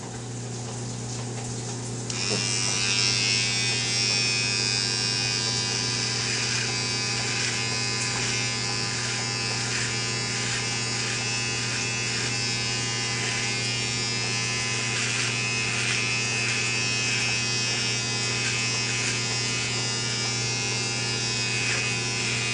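An electric shaver buzzes steadily and close up during a close shave in the shower, switching on after a moment and then holding a continuous whine with slight pulsing as it moves over the skin.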